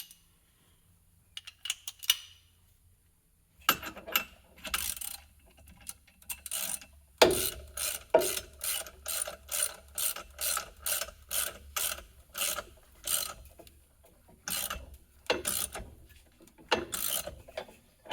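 Ratchet turning a puller bolt on a Kawasaki 4010 torque converter pulley, close sharp clicking in rhythmic runs of strokes with short pauses between, loud and isolated with no talking.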